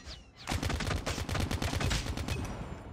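Rapid automatic gunfire from a weapon in the mobile shooter COD Mobile during a ranked match, a dense sustained burst of loud shots after a brief quiet start, running almost continuously to the end.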